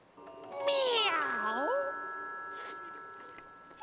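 A person's voice imitates a cat's meow, a single drawn-out, wavering mew that rises and falls, close and fairly loud.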